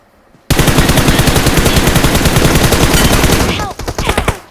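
Gunfire in the mobile game PUBG Mobile: a loud, sustained burst of rapid automatic fire for about three seconds, trailing off into a few scattered shots.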